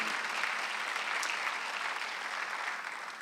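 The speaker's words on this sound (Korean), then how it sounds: "좀 아까 본 사람만 박수하세요." A congregation at a Sunday church service claps together in a dense, even wash of applause that holds steady and fairly loud throughout, with no speech over it.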